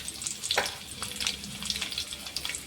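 Garlic dropped into hot oil with mustard seeds and cumin for a cucumber palya, crackling and spitting in quick bursts close to the ear, with no voices.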